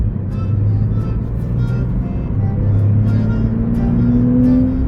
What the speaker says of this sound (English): he's going to let me strap in and drive his Porsche 911